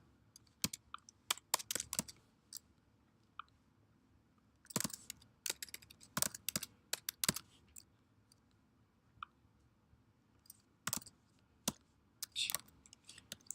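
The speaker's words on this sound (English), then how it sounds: "Told you I'm having difficulties typing today." Irregular bursts of typing on a computer keyboard while programming, close and crisp clicks in uneven clusters with short pauses between, no talk.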